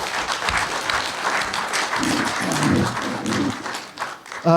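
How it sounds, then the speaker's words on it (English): Panel attendees at a Boston comic convention clap in a sustained round of applause, with a few voices murmuring through the middle and a brief spoken sound just as it ends. "Applaud, please."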